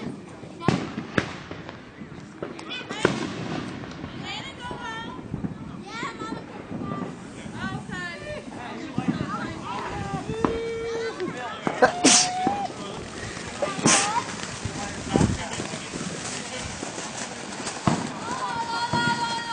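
Fireworks burst at a backyard show, sharp cracks and pops scattered irregularly across the clip, some loud and close, with people talking and children's voices throughout.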